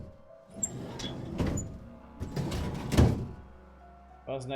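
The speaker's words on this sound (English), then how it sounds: "Oh my god, he has so many working drawers." A drawer slides open in Tesla Effect: A Tex Murphy Adventure, heard as a few soft scraping rumbles and thunks in short bursts, fairly quiet, ending with a brief sharper clack.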